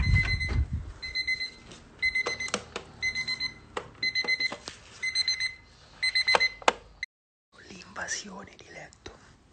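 An alarm clock beeps in rapid repeated bursts, loud and close. It stops abruptly partway through, leaving soft rustling and quiet background noise.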